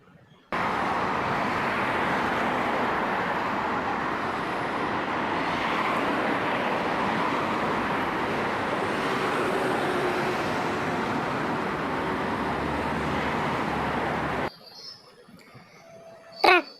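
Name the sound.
bus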